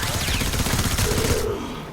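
Rapid bursts of weapon fire from the shooter game Warframe, a dense, loud run of repeated shots that cuts off near the end, leaving a quieter tail.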